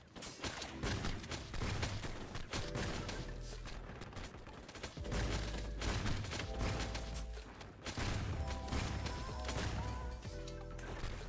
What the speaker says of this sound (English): So many guys shooting me.